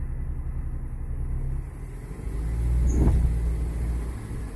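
A Chevrolet Niva with a faulty transfer case in low range idles and creeps forward, then gives a dull clunk as the gear engages, over a low engine rumble.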